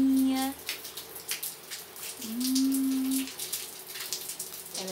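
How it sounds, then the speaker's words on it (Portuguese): Light rain patters steadily as a soft, continuous hiss, with a brief voiced tone rising over it. "Chuvinha, chuvinha, chove, chuva."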